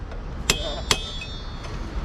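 Two sharp metallic hammer strikes ring out close by while a motorcycle sprocket is changed, each blow leaving a clear, sustained ringing tone, followed by a fainter third knock.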